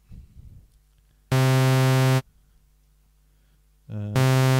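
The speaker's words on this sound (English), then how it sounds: "we're going to have both oscillators on the analog saw." A bright, buzzy Synthstrom Deluge synthesizer tone from two analog saw oscillators sounds in two sustained bursts, separated by near silence, the second entering with a brief pitch swoop.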